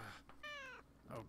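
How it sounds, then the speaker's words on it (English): A cat meows once, a clear drawn-out mewl in the middle, between brief bits of quiet human speech. "Stupid cat."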